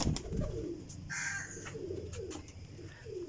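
Flying pigeons, including a blue kamgar, give low cooing calls close by, a few rolling coos spread across the moment with faint sharper chirps between them.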